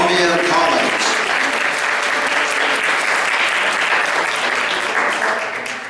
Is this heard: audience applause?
yes